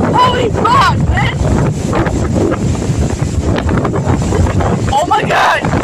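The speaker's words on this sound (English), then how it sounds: "It's way windy!" Loud wind buffets the microphone in a continuous roar, with excited voices shouting over it.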